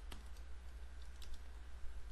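Keystrokes on a computer keyboard while entering a Windows Server 2008 disk command, a short run of quiet, close clicks, faint against a low steady hum.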